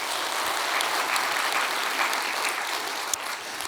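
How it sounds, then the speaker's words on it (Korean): A church congregation applauding during a Sunday sermon, a dense steady wash of many hands clapping at once, loud and continuous throughout with no talk. "박수 한번 합시다"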